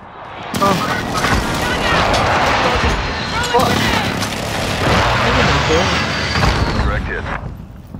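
Airstrike explosions called in during a Call of Duty: Modern Warfare match, a sustained roar of booms and crackling gunfire running loud and dense for several seconds, with voices talking over it.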